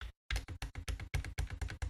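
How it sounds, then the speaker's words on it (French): Old Focus braille display keyboard tapped repeatedly, each space bar press giving a sharp, close plastic clack in a quick, steady rhythm after a brief silence. "c'était le bruit de la barre d'espacement."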